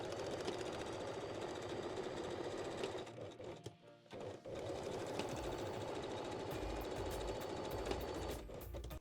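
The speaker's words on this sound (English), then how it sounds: "I will use the regular sewing machine only today, so no Serger day again." A regular domestic sewing machine runs steadily stitching the crotch seams of a thong bikini bottom, a close continuous whirring hum with a brief pause midway, no talk.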